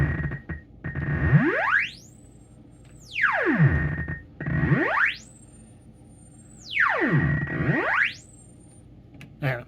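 Self-patched modular synth feedback system built around a shift register, throwing out repeated sweeping chirps that dive down and climb back up in pitch, four or five swoops with short gaps, electronic and alone.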